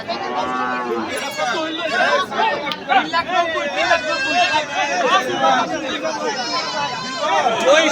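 Cattle moo repeatedly at a busy rural livestock market in Bangladesh ahead of Qurbani, with buffalo also present, their calls rising over constant crowd chatter and nearby talk.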